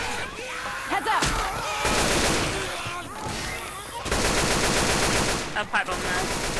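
Rapid gunfire from a shooter video game, bursts of automatic fire clattering loud and close in long stretches, with brief gaps between volleys and voices talking over the shooting.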